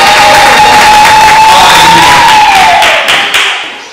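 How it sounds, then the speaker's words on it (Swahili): Church congregation in worship clapping and ululating for Jesus, a dense loud roar of applause with a high wavering trill of ululation over it, close and full, fading out at the end. "Hebu chapa makofi na vigelegele kwa Yesu"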